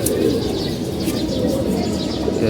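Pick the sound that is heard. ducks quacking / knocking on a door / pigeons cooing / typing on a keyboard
pigeons cooing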